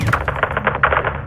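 Air support gunfire in Call of Duty Modern Warfare II comes as a short, rapid automatic burst, a fast rattle of shots that is clear and close and lasts about a second.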